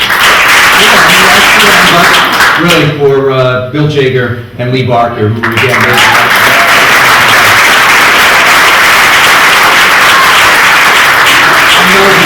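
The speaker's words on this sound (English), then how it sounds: "Please join me again in a round of applause for" A large audience breaks into sustained, dense applause at a hall of fame event, loud and continuous through most of the stretch, with a voice speaking over it briefly early on.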